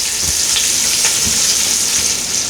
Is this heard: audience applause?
no